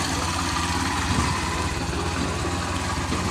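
Bajaj CT 100 motorcycle engine running steadily after conversion to a 4-pin CDI, a continuous close, even idle hum with no talking.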